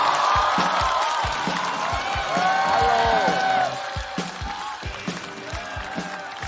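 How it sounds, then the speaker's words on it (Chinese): A studio audience at a stand-up comedy competition breaks into loud applause and cheering with whoops to welcome a comedian on stage, dense at first and then easing off to a thinner patter. "我们掌声有请。"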